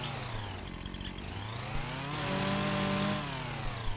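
A chainsaw cuts through wood in a roleplay video game, its engine revving up and down through a sustained bite into the log, close and loud with no talking.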